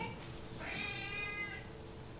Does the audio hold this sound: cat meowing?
yes